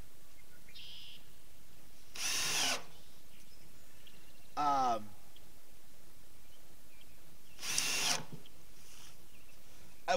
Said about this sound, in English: I'm driving a screw.